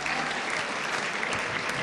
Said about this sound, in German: Also einen kräftigen Applaus bitte.